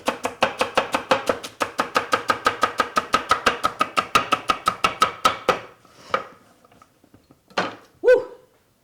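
A knife chops celery on a board in a quick, steady run of about thirty close, even strokes, then stops, and a few scattered thuds and a louder knock follow.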